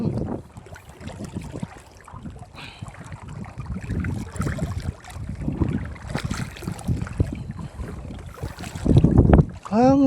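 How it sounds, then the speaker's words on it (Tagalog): Loud, gusty wind buffets the microphone in rough, uneven bursts at sea, with sloshing seawater underneath and a short muffled voice near the end. "Ang lakas na ng hangin."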